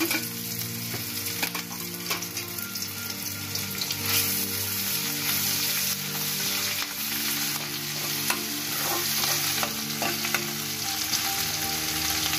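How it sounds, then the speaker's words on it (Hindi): Garlic and ginger fry in refined oil in a kadai, a steady close sizzle running unbroken for the whole stretch with occasional stirring scrapes and no talk. "कढ़ाई में रिफाइन डालकर मैंने डाला लहसुन अदरक"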